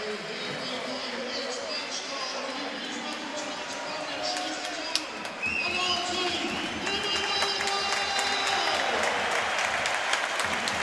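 A fervent football crowd at a Plymouth Argyle match applauds as the players come out, with steady clapping and cheering throughout and a commentator talking over it.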